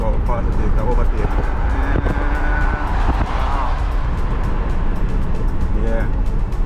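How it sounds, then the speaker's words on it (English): A car overtakes on a road in Grand Cayman, heard from inside a cruising vehicle as a steady road and engine rumble with a passing swell, under people talking. "look at this car about to overtake now"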